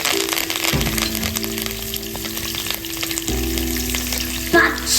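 Green chillies and curry leaves fry in hot oil with a steady, loud sizzle, with a sharp burst of crackling as they land and another surge partway through, no voices.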